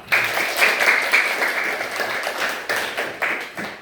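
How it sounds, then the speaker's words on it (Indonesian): A class of pupils clapping together in a lesson, a short burst of fairly close applause with a few rhythmic surges before it tapers off. "Tepuk tangan untuk kita semua"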